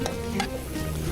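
Mutton kunna masala, mixed with ground coriander and salt, fries briefly in a pan with a steady low sizzle and faint stirring scrapes, fairly close and continuous for about a second.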